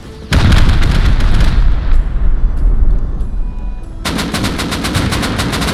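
In the survival video game Rust, AK and M2 rifles fire from a rooftop during a helicopter fight. Loud, rapid automatic bursts rattle close by, then ease into a more distant sustained barrage before sharp, evenly spaced shots resume.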